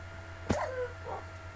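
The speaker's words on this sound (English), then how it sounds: "There's a lot of wolves there." A wolf in the Minecraft video game gives a single short yip or whine near the middle, a sharp onset that trails off into a falling whimper over a low steady game hum.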